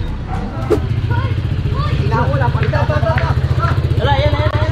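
Motorcycles rumble along a city street at a corner in the Philippines, a steady close engine drone with pulsing low throb throughout, and people talking over it.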